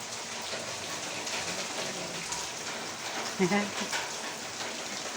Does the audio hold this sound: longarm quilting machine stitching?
no